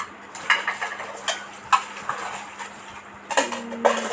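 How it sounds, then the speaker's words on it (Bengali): Plates, a bowl, lids and pots are washed by hand, giving scattered close clinks and clatters of dishware knocking together over running-water hiss, with no talk. "একটা বাটি, একটা বল, আর দুটো ঢাকনা, দুইটা পাতিল, এগুলা ধুয়ে পরিষ্কার করে নিই।"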